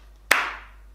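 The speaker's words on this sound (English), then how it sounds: "So we'll try to clap pin." A single sharp hand clap marking one syllable, close and crisp with a brief decaying ring in a quiet room.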